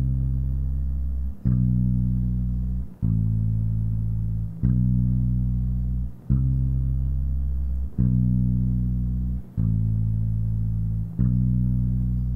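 A bass guitar plays the bridge chord progression of a worship song at a steady rhythm, each long low note ringing until the next attack, about eight even strikes, loud and alone.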